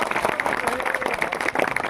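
Crowd at a political rally in India clapping, a dense wash of many hands applauding steadily and fairly loud, with voices mixed faintly underneath.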